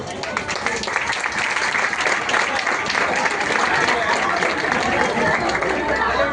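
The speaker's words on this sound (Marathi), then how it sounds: "चला एकदा जोरदार टाळ्या वाजल्या पाहिजे" An audience at a village development association's anniversary family gathering in Rajapur claps steadily, with dense applause blending into crowd chatter throughout.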